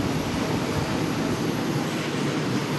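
A Lufthansa airliner passes over Uptown Charlotte, heard as a steady, broad jet roar that stays loud and unbroken throughout, with no voices.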